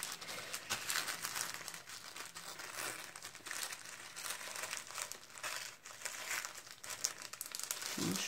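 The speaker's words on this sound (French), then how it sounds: "Déchire le papier de soie" Tissue paper is torn and crinkled close to the mic, with a continuous busy rustle of crackling and crumpling that runs throughout and occasional sharper rips.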